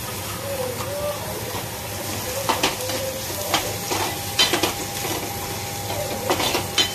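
Raw ground masala paste with tomato sautéing in a pan, a low continuous sizzle with occasional louder stirring scrapes and clinks of a spoon against the pan.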